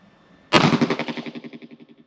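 A single sharp .22 Magnum shot from a High Standard DM101 Derringer, loud and close, with a quick blast followed by a fading ringing echo that pulses rhythmically for about a second and a half.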